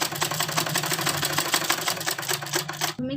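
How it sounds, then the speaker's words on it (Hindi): A sewing machine runs a fast, even stitch along the neckline strip of a school uniform suit, a loud, steady mechanical rattle close up that stops abruptly near the end. "तो चलते हैं हम किनारे किनारे सिलाई लगाते हैं नेक की"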